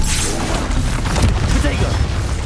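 A Confringo explosive spell blast in Hogwarts Legacy, a dense booming burst with a rumbling low end that fills the short moment without pause.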